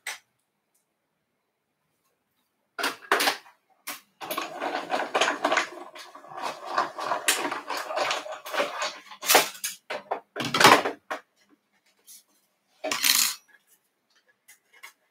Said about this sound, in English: So let's die cut that.